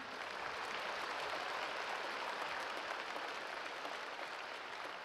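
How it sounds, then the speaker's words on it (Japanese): A large crowd applauds steadily at a fan festival event as the players leave the floor, a dense, even wash of clapping that holds at a constant level throughout. "どうぞ皆さん大きな拍手でお送りください。"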